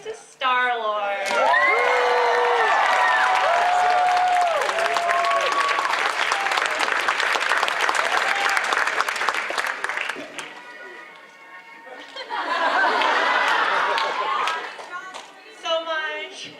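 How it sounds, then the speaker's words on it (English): An audience at a Forest City Comicon cosplay contest in London, Ontario, clapping and cheering in a loud sustained ovation with whoops, easing off briefly before a second swell, while a voice speaks over the crowd. "A big round of applause for that group, guys."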